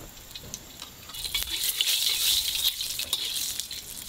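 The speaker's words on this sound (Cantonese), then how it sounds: "咁我哋可以落啲料頭入去爆香啦" Aromatics fry in a wok with crab oil and lard over medium-low heat: a bright, crackling sizzle that rises after the first second, mixed with scraping and light clinks of a spatula stirring against the metal.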